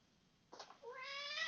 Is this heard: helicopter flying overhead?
no